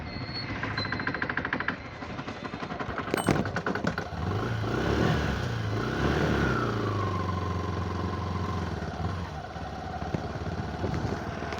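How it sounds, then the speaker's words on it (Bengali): A motorcycle engine putters and rises as it passes along a foggy rural road lined with trees on a winter morning, a mid-pitched drone growing closer, then fading, amid light clatter. "মোটর সাইকেল আছে।"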